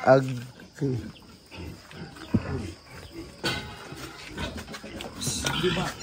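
A large pig, around 81 kilos, squeals and grunts in short harsh bursts among people talking nearby in a noisy outdoor setting.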